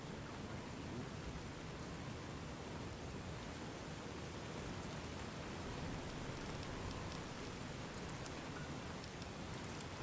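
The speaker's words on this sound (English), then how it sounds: "That rain is so loud!" Steady, loud rain hisses without a break in Fallout New Vegas, a dense broadband wash with faint hints of rumble and no talking over it.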